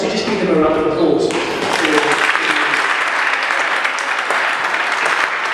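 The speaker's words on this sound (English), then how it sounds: "I would like us to just give them a round of applause" Applause from a church audience, dense and sustained clapping filling the whole stretch at steady volume, rising slightly after the first second.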